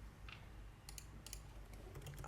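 Soft keystrokes on a computer keyboard come as a few faint, brief clicks in two small clusters over a steady low hum.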